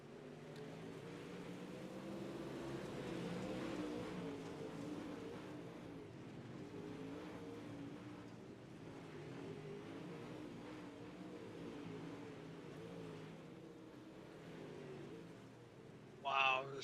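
IMCA style modified race cars roar around the dirt at Lernerville Speedway, a steady distant engine drone under commentators talking.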